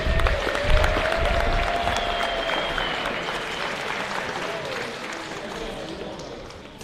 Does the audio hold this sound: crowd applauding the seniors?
yes